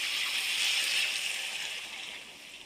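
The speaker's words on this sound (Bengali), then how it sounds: "এবার আমি জল দিয়ে দেবো।" Water poured into a pan of fish curry with cauliflower, a steady, fairly close hiss and splash that stays even and tapers off slightly toward the end, with no talk.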